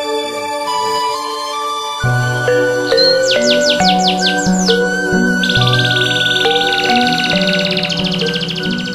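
Canaries chirping during a breeding attempt with a different male, bright repeated tweets and trilled runs of song over a steady backdrop, close and fairly loud throughout with no voices.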